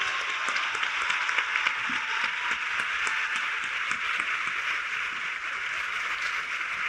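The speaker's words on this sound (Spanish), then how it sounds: "Un aplauso." Steady applause from a festival audience after a talk in Argentina, dense and even throughout, a continuous wash of many hands clapping with no break.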